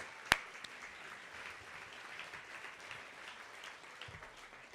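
An awards-gala audience gives a round of applause: a faint, distant wash of clapping that holds steady throughout, with one brief sharp knock near the start.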